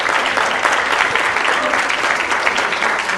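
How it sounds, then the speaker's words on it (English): At a city council meeting, a room full of people gives a cheer team a round of applause: continuous, fairly loud clapping from many hands, steady throughout with no talk over it. "Let's give them a round of applause."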